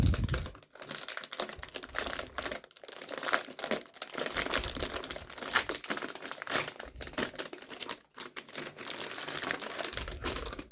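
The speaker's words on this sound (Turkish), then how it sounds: "Hemen şuradaki bantlı kısımlarını açalım" Taped plastic wrapping being torn and pulled open around a new AOC GK500 mechanical keyboard with Outemu Red switches, a steady close crinkling and ripping with brief pauses.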